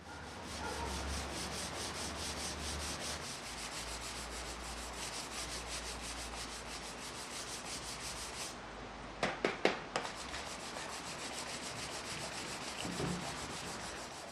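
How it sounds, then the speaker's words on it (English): Steady, continuous hand sanding of an electric guitar body with 220 then 320 grit sandpaper, a dry scratchy rubbing that runs on without pause, with a few brief knocks near the end. "I start by dry sanding with 220 grit sandpaper and then finish with 320 grit sandpaper."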